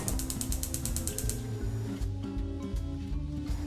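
A gas stove knob on a kitchen range is turned with a rapid ratcheting click train of the igniter for about two seconds, close and crisp, followed by quieter mechanical clicks under steady background music.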